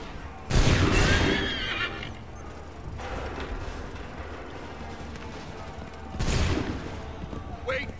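Musket volleys crack out in an Assassin's Creed III battle at Lexington and Concord, two loud broadband bursts a few seconds apart with a rumbling tail, over a busy field of horse whinnies and mechanical clatter.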